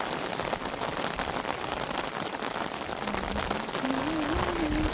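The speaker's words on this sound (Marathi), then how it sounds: "आवाजसुद्धा येऊन राहिलेला आहे पावसाचा" Heavy rain pours down steadily in a dense, even hiss of drops on surfaces. Near the end a faint voice can be heard under the downpour.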